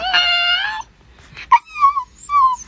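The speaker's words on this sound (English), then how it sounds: "That's not a bark." A dog whimpers and yips in a high, wavering voice instead of barking, a drawn-out whine followed by shorter squeaky cries, close and fairly loud.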